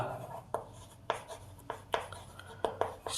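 Pen or pencil writing on paper during a fifth-grade maths lesson, with several short scratchy strokes spaced irregularly, close and moderately quiet, no talking.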